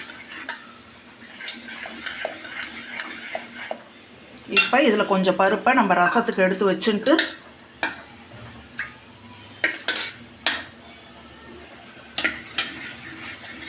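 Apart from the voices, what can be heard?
mashing cooked lentils with a ladle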